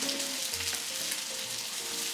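Continuous close sizzling and frying of soy sauce poured over fried rice in a hot pan, crackly and steady, with faint tonal hums underneath.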